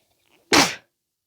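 A single sharp sneeze, close and loud, bursting out after a brief faint inhale, then silence.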